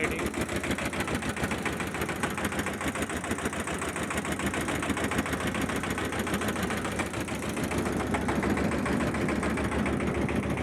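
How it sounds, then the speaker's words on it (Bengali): A motor boat engine chugs steadily at close range while the boat travels upstream against the current on a swollen river near a barrage, with a constant rapid rhythmic throb and no speech. "এই রাইডিং স্রোতের বিপরীত দিকে নৌকা চলছে"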